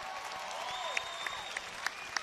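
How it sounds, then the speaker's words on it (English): A crowd at an AKA 51 fight event in Lake Charles, Louisiana applauds faintly at a distance, with scattered sharp claps and high, wavering whistles or shouts rising over the general noise. "So can we give them a round of applause"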